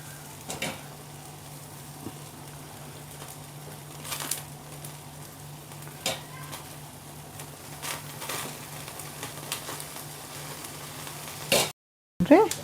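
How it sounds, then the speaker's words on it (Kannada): Paneer tikka brushed with melted butter sizzles softly in a pan with faint steady frying and a few louder crackles and scrapes as the pieces are turned. "ಈಗ ನೋಡಿರಿ ಮೆಲ್ಟೆಡ್ ಬಟರ್ ಹಚ್ಚೋಣಂತ. ಇದಕ್ಕೆ ಹಚ್ಚಿ ಹಿಂಗೆ ತಿರುಗಿಸೋಣಂತ."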